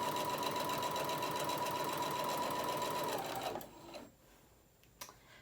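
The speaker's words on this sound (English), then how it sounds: "the kind of sewing machine that I'm using is the Singer Modern Quilter" A Singer Modern Quilter sewing machine stitches fabric steadily at high speed with a whirring, buzzing hum, then slows and stops, leaving quiet with a faint click afterward.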